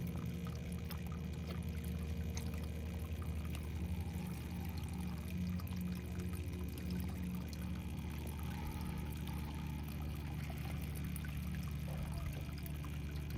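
Gold concentrate and water dumped into a gold pan during a gutter sluice cleanup, a steady low pouring and sloshing wash of water running continuously and fairly faint.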